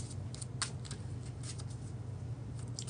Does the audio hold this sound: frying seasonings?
no